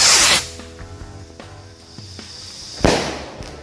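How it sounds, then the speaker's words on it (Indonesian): A jumbo rocket firework is lit: a loud close whoosh at launch, a stretch of hissing and faint crackles, then a sharp bang as it bursts, followed by fading crackle. "Ini menyalain mercon roket jumbo."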